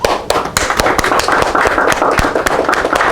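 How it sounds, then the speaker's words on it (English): Crowd applause honoring the people who provided blankets at a Holy Day gathering: dense, continuous clapping from many hands with sharp individual claps standing out, loud and close, lasting throughout. "So please give these ones a round of applause"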